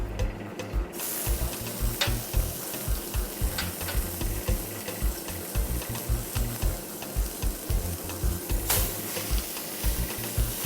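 Seasoned, marinated prawns fry in a hot pan, giving a continuous sizzle broken by regular scraping and stirring pulses, heard up close with no voices.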